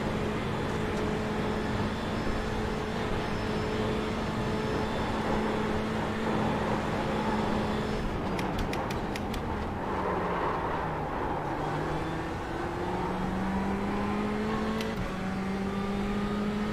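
A GTE or fast GT3 race car drives on a racetrack, its engine note droning steadily at high revs and shifting pitch through gear changes and braking, heard continuously from close behind.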